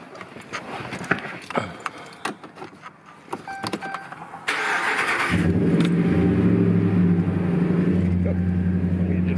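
After a few seconds of clicks and rustling, a 2015 Ram pickup truck engine cranks and catches, then settles into a loud, steady idle that continues to the end.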